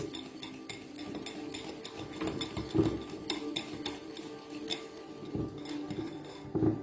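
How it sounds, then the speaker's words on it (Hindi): Metal spoon stirring wet brownie batter in a bowl, with light repeated clinks and scrapes against the sides at an uneven pace and a few louder taps near the end. No one speaks. "ब्राउनी है, तो जस्ट मिक्स करना है"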